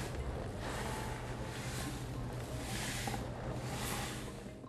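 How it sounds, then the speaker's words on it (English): Ocean-like surf sound from an art exhibit piece built around a drum, a steady broadband wash with slow swelling surges, loud and continuous throughout with no voices. "This is supposed to emulate the sound of the ocean."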